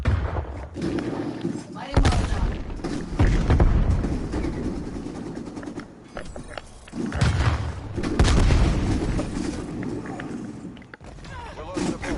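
A frag grenade explodes in a first-person shooter video game, with heavy booms and thuds and surrounding gunfire mixed with in-game voice callouts.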